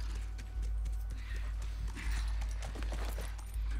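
In The Last of Us Remastered, horse hooves clip-clop in a slow, regular rhythm, about six distinct low thuds over a soft background hum, with no voices.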